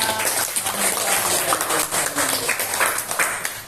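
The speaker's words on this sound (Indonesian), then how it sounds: "Kita kasih tepuk tangan buat" Classroom applause of scattered, uneven clapping at moderate loudness, with voices mixed in beneath the claps.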